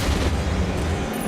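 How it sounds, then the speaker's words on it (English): A gunshot in Metro: Last Light Redux, one heavy low boom filling the short moment, loud and close with a dull rumbling body, no voices. "Oh, I just shot my friend."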